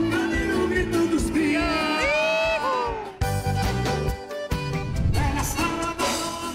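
A studio audience at a Sunday TV variety show shouts, whoops and cheers loudly and continuously while music plays and a presenter's voice carries over the din.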